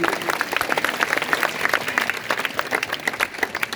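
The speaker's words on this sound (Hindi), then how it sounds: "सभी लोग ताली बजाओ इसके लिए।" A crowd at an outdoor award ceremony in India applauds steadily, dense overlapping clapping that holds at an even level for several seconds, with no talking.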